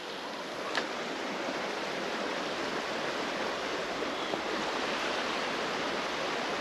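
Steady broadband rush of a cold river flowing around someone wading out into it in snowy weather, continuous and close with faint splashes, no talking.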